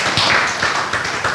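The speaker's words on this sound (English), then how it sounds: "let's give him a round of applause" A room of people gives a round of applause for a parent at an evening class, with a short burst of steady clapping at moderate loudness and no voices.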